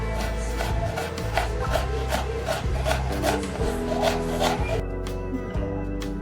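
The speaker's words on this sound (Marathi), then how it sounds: "असे बारीक बारीक आपल्याला कापून घ्यायचे कांदे सगळे" A knife slicing onions finely on a board for onion bhaji, with steady rhythmic rasping cuts, close and continuous, over a low background hum.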